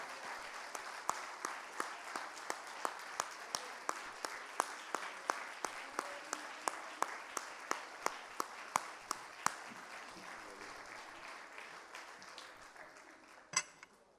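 Church congregation applause builds into regular rhythmic clapping in unison, with sharp evenly spaced claps over a softer wash of hands, then a looser patter and one loud knock near the end.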